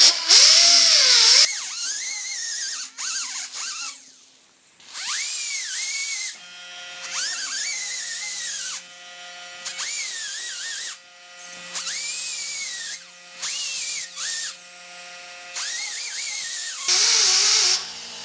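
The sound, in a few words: power tool smoothing filler on 1950 Chevy truck door jamb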